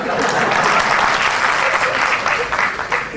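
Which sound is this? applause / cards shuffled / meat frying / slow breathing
applause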